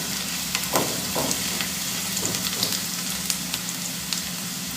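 Garlic sautés in a frying pan that is not yet fully hot, giving a steady, close sizzle with small crackles and pops throughout.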